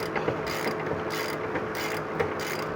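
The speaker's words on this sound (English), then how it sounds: "let me tighten all these nuts up" A Harbor Freight ratchet tightening nuts on the chamber of a Thermodynamics low-mass boiler, rapid repeated clicking of the pawl in steady bursts, close and fairly loud, with no talking.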